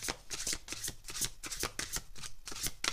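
Tarot cards being shuffled by hand, a rapid run of crisp riffling flicks close up, with no talk.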